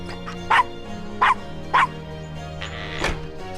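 A dog in the Gabriel Knight video game barks three sharp times in quick succession, then gives a fourth bark after a short pause. The barks are close and loud.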